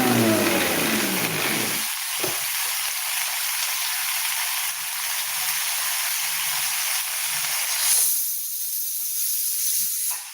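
Loud, steady steam hissing from a pressure cooker cooking brinjal and moong dal fills the clip, a broad rushing whoosh that swells sharply near the end; no one speaks.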